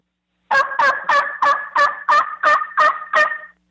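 An elk caller imitates a turkey on a diaphragm mouth reed: eight evenly spaced yelping notes in a steady rhythm, loud and close, with silence before.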